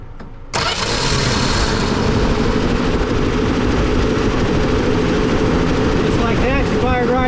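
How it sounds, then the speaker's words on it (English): A 1966 Dodge Dart, parked for 25 years and just had its carburetor float adjusted, cranks and abruptly fires up, then settles into a loud, rough, steady idle; a voice comes in briefly near the end. "Just like that, she fired right up."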